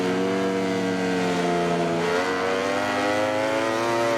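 A rival racing motorcycle engine sounds from just behind the rider in the MotoGP 20 game. It is a loud, sustained, buzzing engine drone whose pitch dips slightly and then holds steady.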